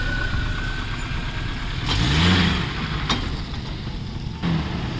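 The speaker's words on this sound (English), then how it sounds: "So right now we'll be driving the vehicle and showing you the performance of the vehicle." A 2004 Maruti Gypsy King with a 1.3 engine and an LPG kit runs steadily at a mid-pitched drone, with a brief swell near the middle like a light rev and a few sharp knocks over the continuous engine noise.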